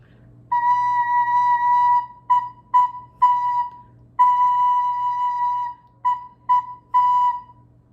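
A recorder plays a short rhythm of sustained and tied notes on one steady pitch, with clear gaps between the phrases and brief short notes near the end, alone and fairly close.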